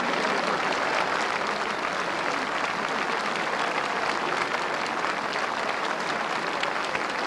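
Huge crowd at the 1990 Cheltenham Gold Cup cheering and applauding a 100-to-1 winning racehorse, a dense, continuous roar of clapping that holds steady and loud the whole time.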